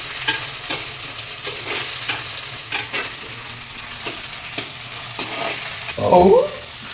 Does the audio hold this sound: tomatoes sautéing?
yes